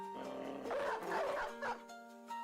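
Dog barks from the video game Battle Brothers: a few short, sharp barks mixed into a busy burst of game sound, with a steady tonal hum underneath.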